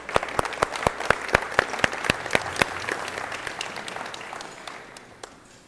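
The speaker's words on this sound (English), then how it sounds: "That deserves an applause." Audience at a school district address applauds, with a few loud individual claps standing out over a wash of crowd clapping that gradually fades out.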